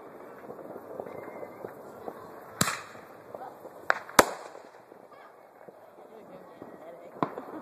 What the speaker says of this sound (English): I'm ready for these fireworks.